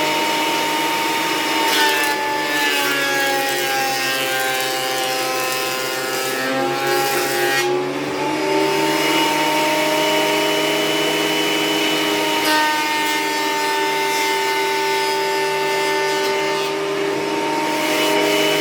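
A power tool joints wooden boards for a cutting board indoors, a loud steady whine with shifting tones that dips briefly partway through and then carries on alone.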